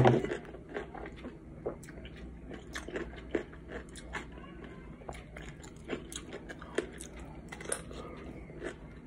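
Someone biting and chewing a bagel at close range, with a few crunchy bites followed by a run of soft, irregular chewing and squishing sounds, fairly quiet throughout.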